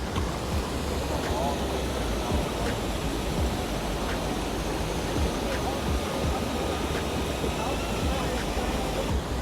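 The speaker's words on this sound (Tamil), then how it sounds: "அப்படியே அந்த தண்ணி அப்படியே போய்கொண்டே இருக்கு" River water rushing during a Canadian salmon run, a broad steady roar of flowing water that fills the scene continuously without letting up.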